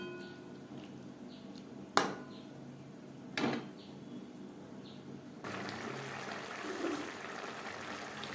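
A small splash of water goes into a simmering pabda fish curry with raw tomatoes. Two sharp clinks come first, then a soft hiss and trickle start midway and carry on quietly to the end.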